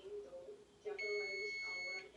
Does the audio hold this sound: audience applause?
no